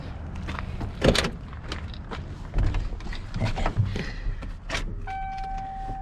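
Inside a 1995 Ford F150 2WD Eddie Bauer with 164,000 miles, a few dull clunks and thumps come first, then the fuel pump primes with a steady electric whine that starts near the end and holds.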